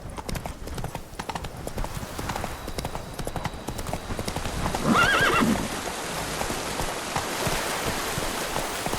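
Roach, the horse in the video game The Witcher 3: Blood and Wine, gallops with a fast, dense drumming of hooves, and a loud neigh rises midway over a soft hiss that may be rain.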